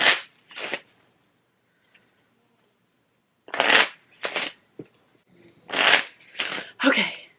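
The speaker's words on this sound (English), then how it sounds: "one more shuffle for good measure" Playing cards riffle-shuffled in quick crisp bursts, a couple at first, then a pause, followed by a rapid series of several more.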